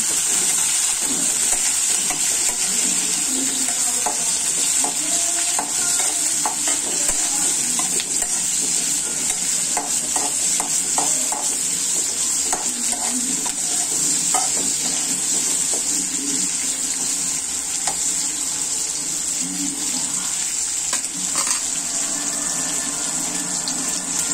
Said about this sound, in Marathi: कांदा लाल होईपर्यंत भाजून घ्यायचा।